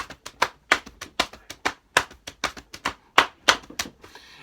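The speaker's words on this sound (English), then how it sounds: "So the basic technique of hamboning" Hamboning body percussion, hands rapidly slapping the thighs and chest, produces a fast, steady stream of sharp, loud slaps in an even rhythmic pattern, with no talking.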